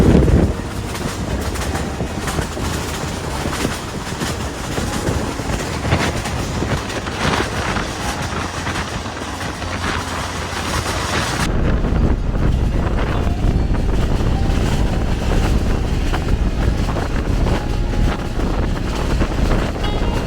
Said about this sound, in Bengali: ট্রেনের মধ্যে সেফলি যাচ্ছি